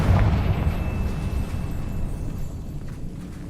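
A Confringo explosive spell from Hogwarts Legacy bursts with a loud low boom that fades into a rumbling tail over a few seconds, with no talk over it.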